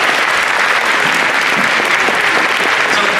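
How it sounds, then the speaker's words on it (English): Dense, loud audience applause fills a grand opening program at a new event center, a continuous wash of many hands clapping at once with no pause. "I think we should give them a round of applause"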